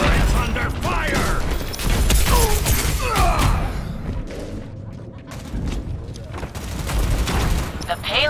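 Heavy automatic gunfire and bursts of weapon fire in a chaotic Overwatch match, loud and continuous, with mechanical clanks and in-game voice lines mixed in.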